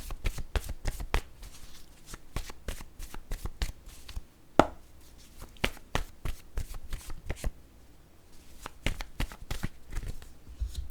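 Playing cards riffled and drawn one after another in a series of sharp, close flicks and snaps, with brief pauses between bursts and no talk.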